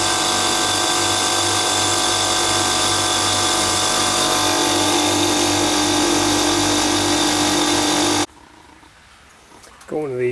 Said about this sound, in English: Got one of these Yankee style screwdrivers, and this one's made by Facom